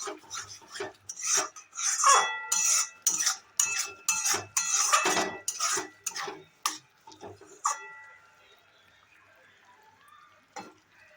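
Cashew paste sautéed in a pan over low gas while being cooked for a curd chicken curry, close-up bursts of scraping and stirring against the pan, then a quieter gentle sizzle with occasional taps.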